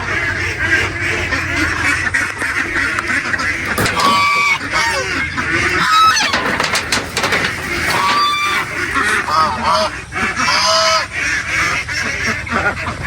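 Ducks on a duck farm, including laying hens, honk and quack in a loud, busy chorus of repeated calls close by, with a brief voice or two mixed in.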